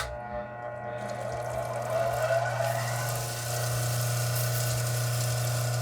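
Steady water runs and splashes on a lapidary polishing wheel prepared for polishing petrified or agatized wood, with a constant motor-like hum underneath and no talking.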